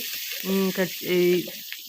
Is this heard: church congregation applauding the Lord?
no